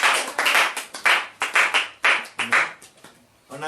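A church congregation clapping in a sharp, irregular cluster of hand claps that rises and falls in quick bursts, close and loud, then fades to a near-silent pause before one last clap.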